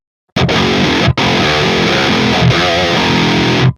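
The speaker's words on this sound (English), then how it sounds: "And then I'll use the overdrive in front of the amp, which sounds great." Heavily distorted, high-gain metal electric guitar through an amp with an overdrive in front plays loud chugging chords in two tight bursts, with thick overdriven crunch and a brief cut between them.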